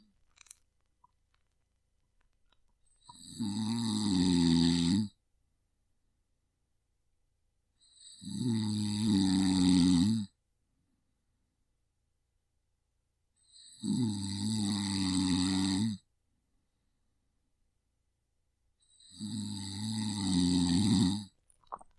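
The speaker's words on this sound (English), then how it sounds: "I am recording a snoring." Four long, deep snores, each a rumbling rattle lasting a couple of seconds, separated by quiet pauses in a slow, regular rhythm.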